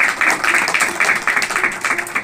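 A church congregation at a Hindi-Urdu sermon claps together in steady, dense applause, loud and close, with a voice faintly audible underneath.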